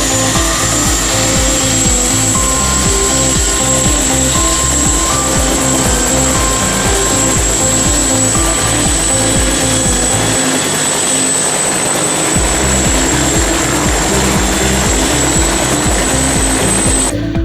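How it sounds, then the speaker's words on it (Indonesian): Loud, steady helicopter rotor thudding with a rapid pulsing beat and engine whine, continuous throughout at close range. "menghasilkan suara getaran yang keras karena baling-baling helikopter"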